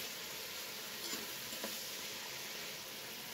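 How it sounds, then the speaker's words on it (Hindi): Chicken frying in hot oil while a spoon stirs it, a soft, faint, steady sizzle with one or two light stirring touches, close and without talk. "चिकन को अच्छी तरह फ्राई कर लेंगे।"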